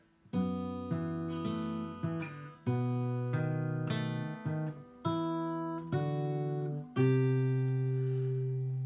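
A guitar plays a riff of ringing strummed chords and picked notes in a steady rhythm, clear and close, with no voices.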